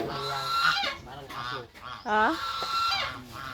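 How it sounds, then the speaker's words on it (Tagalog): A goose honks repeatedly on a rural province farm, loud nasal calls close by in an uneven series, with a person's brief voice mixed in among the honks. "Gansa yan, di ba, Uncle?"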